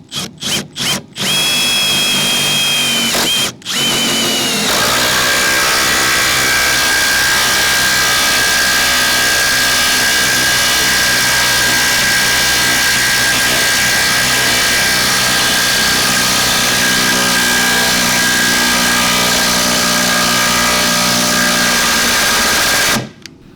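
A Makita 18V LXT brushless impact driver (XDT14T) at high speed, miked very close: a few short bursts, then a loud, steady high-pitched whine with a hammering rattle that runs without bogging for nearly twenty seconds before stopping.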